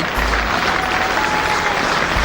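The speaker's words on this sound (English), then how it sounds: "Applause ringing out for Sachin Tendulkar, his 3rd half-century in Test cricket" A cricket crowd at a Test match applauds Sachin Tendulkar's half-century on the 1990 tour of New Zealand, with a steady, dense roar of clapping that holds evenly throughout and has no talk over it.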